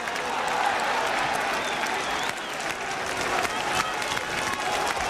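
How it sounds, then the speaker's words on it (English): A 1971 English football stadium crowd applauds Queen's Park Rangers, a broad, steady roar of clapping and murmuring spectators that holds at an even, loud level throughout. "But generous applause for 2 good sweeping moves there by Queen's Park Rangers."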